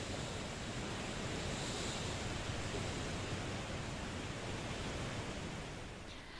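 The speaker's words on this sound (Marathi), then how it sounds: "पांढऱ्या शुभ्र पाण्यानं प्रवाहित झालेला हा धबधबा" Bhimkund waterfall in full monsoon flow, white water cascading down: a dense, steady roar of rushing water fills the scene without pause, easing slightly at the very end, with no voices.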